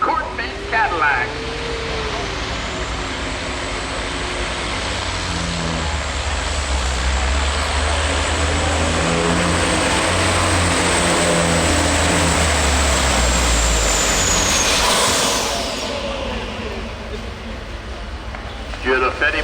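A Corvette Cadillac pull truck at a county fair truck pull roars loud and sustained for about fifteen seconds, its engine note climbing to a high whine before cutting back, with an announcer talking over it.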